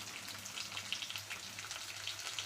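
Green chillies sautéing in oil in a pan for mint chutney, a continuous crackling sizzle with fine popping spatters, close and steady.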